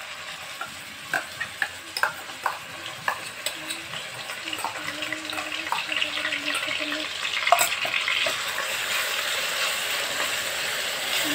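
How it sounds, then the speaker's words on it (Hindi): Chopped onions sautéing in hot oil with cardamom while cooking chicken kofta, a steady close sizzle with regular spoon scrapes and stirring clatter early on, a brief spoken word near the middle. "प्याज को हम थोड़ा सॉटी कर लेंगे।"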